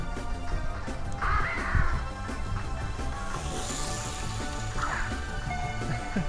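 A bird Pokémon in Pokémon Go gives a crow-like cry, two harsh caws a few seconds apart over steady game music.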